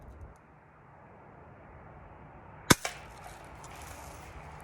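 A single sharp crack from a 1940 Daisy Red Ryder air rifle fired in a quiet setting, followed by a quick smaller report, with no talking.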